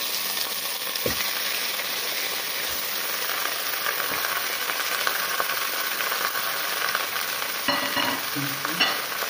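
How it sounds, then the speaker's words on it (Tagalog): Native chicken hits a pan of frying garlic, ginger and onion, producing a loud, dense, unbroken sizzle with a few dull stirring knocks, heard close and with no voices. "ilagay na natin ang ating native na chicken"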